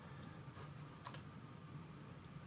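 A computer mouse gives a quick double click, two faint, sharp taps close together, over quiet room hum during setup of a Synology DiskStation DS418 NAS.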